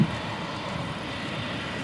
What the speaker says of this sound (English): So you can actually see the planes landing as well.